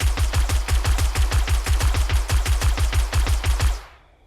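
Automatic gunfire from a gun in the survival game 7 Days To Die, a rapid, evenly spaced burst of about twenty-five loud shots lasting over three seconds, then cutting off into a short fading tail.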